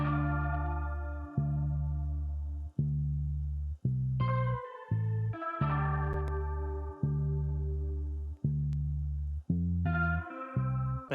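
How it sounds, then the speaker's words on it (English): Bass pattern played on a 1960s mellotron: a steady sequence of sustained, distorted low tape-replayed notes with echo, repeating every second or so alone without voices. "we've got a bass pattern that sounds like this"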